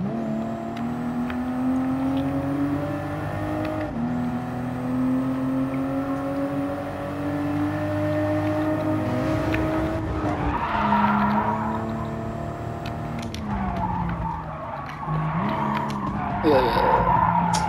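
A Toyota Supra in a PS5 racing game drones steadily with engine tone, then tires screech and skid around the middle and again near the end, while someone talks over it.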